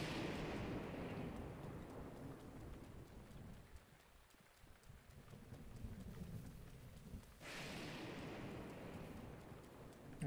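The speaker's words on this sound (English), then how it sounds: "That lightning is like really close." Thunder from a lightning storm in the video game Zelda Breath of the Wild rumbles long and low under steady rain, with a heavy crack and surge of noise near the end.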